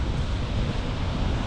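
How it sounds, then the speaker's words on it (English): Rough surf rolling onto the North Sea coast of Scotland, a steady broad roar of breaking waves mixed with wind buffeting the microphone, loud and continuous with no voices. "Check this crazy waves"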